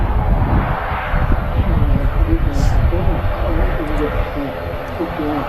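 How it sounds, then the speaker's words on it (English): Aer Lingus ATR 72 turboprop, about five years old, at Manchester Airport, its propellers giving a loud rumbling drone with a throbbing beat while people talk over it. "Blaring them props nicely as well."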